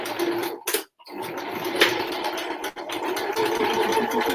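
A sewing machine runs steadily, stitching a line through hessian for plant pots, with a close, continuous mechanical whir that halts briefly twice before carrying on.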